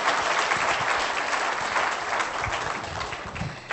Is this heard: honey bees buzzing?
no